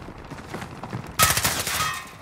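Gunfire in Call of Duty: Modern Warfare starts as a sudden loud burst of rapid shots midway through, after a quieter stretch of distant battle noise, then keeps rattling.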